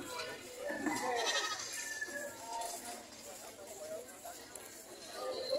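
Goats bleat several times amid background chatter and farm noise, fairly faint and somewhat distant.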